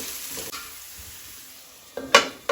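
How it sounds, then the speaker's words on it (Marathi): Chana dal fries in oil in a pan, with a soft hiss that stays quiet before two brief, sharp stirring scrapes near the end. No one speaks. "चण्याची डाळ मातशी आमी तेलार परतून घेवपाक जाय।"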